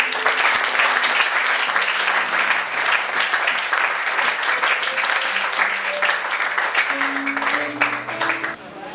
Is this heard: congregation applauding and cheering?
yes